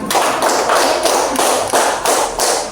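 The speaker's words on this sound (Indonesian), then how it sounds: "Tepuk tangan untuk kelompok Mawar" A classroom applauds a student group, a dense, loud burst of clapping from many hands with slight rhythmic pulses, close by and with no voices.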